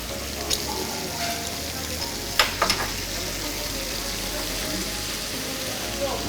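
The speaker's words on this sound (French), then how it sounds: "Une fois que c'est bien saisi, on va déglacer avec la sauce soja sucrée" Beef-cheese skewers sizzle in a pan as sweet soy sauce deglazes it, a continuous loud frying hiss with a few sharp clinks from stirring utensils partway through, close up.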